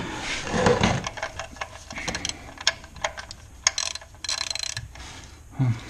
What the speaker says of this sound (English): Alright, so tighten that up real quick.